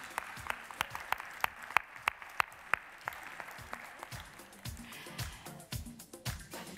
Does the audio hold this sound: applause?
yes